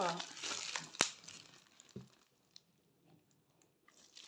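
A plastic-wrapped Shein package being opened, with crinkling and rustling of plastic, a sharp tear or snap near the start, then quieter, sparser handling noises.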